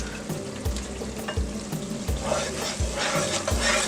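Spaghetti sauce with a Maggi cube stirred in the pan, a soft steady sizzle with repeated scraping strokes of a spoon in a regular rhythm, fairly quiet and close.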